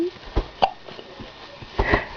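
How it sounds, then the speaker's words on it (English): Someone has the hiccups, giving several short, abrupt gulping catches spaced about half a second apart, close and fairly soft, with a sniff or breath between them. "You have the hiccups."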